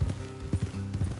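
Horse hooves clopping in the video game Red Dead Redemption 2, a rhythmic series of dull hoof strikes at a walking pace, close by and moderately loud over a low ambient hum.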